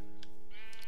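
A Minecraft sheep bleats over a constant humming game backdrop, with a short wavering bleat near the end of the brief moment and a couple of faint clicks.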